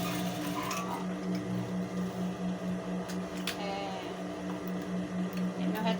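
A domestic sewing machine runs steadily, its motor humming with a fast regular stitching pulse as it sews fabric inside out for a baby car seat cover, close and continuous with a few faint clicks and rustles.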